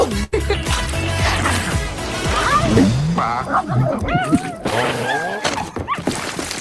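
From a Clifford movie trailer, a dog barks, yips and whimpers amid busy trailer sound with music and voices, the animal noises loud, close and scattered throughout.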